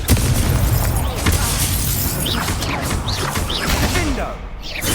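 Spell combat in Hogwarts Legacy, with a Confringo fire blast exploding among other casting effects: dense, continuous crackling bursts and booms layered with whooshing magic, loud and busy throughout, with voices mixed in.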